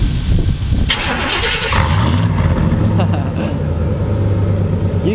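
An old truck engine cranks and catches, then settles into a loud, rough, steady idle close by, with people talking over the running motor.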